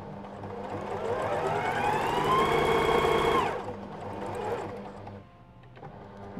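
A sewing machine stitches the neckline of a fabric shift dress, a close whirring run that rises in pitch for about three seconds, then stops, followed by a short burst of back stitches.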